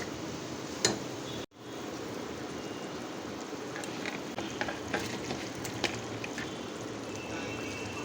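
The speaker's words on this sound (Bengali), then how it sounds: "মাছটা আর একটু ফুটুক" Fish curry simmering in a pan gives a steady, close hiss and bubbling, with a few faint clicks and one brief dropout near the start, and no talk.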